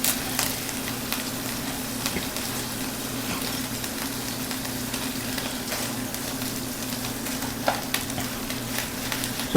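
A burger bun toasts in a hot pan with a steady, soft sizzle and crackle, close and continuous with a low hum underneath and occasional small pops, no talking.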